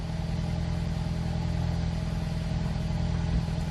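Ford EcoBoost engine idling after a cold start with misfires, a steady close rumble with a faint uneven pulse running underneath throughout.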